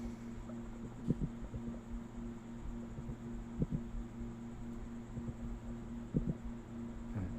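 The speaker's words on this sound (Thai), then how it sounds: "ลองฟังเสียงปลาตีหลุมอยู่นะครับ" Dull, faint thumps from a tilapia beating its nest recur about every two and a half seconds over a steady low underwater hum.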